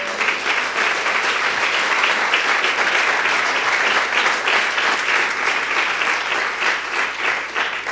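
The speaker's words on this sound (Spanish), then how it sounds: "ese aplauso fuerte que usted dio" A church congregation applauds loudly and steadily, dense clapping filling the space without pause and with no voices rising above it.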